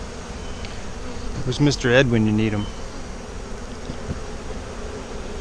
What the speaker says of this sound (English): Help me take care of some of these bees